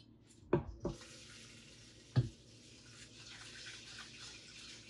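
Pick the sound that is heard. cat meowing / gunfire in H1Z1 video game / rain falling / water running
water running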